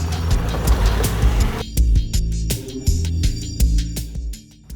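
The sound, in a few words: Honda Talon 1000X-4 side-by-side driving on trail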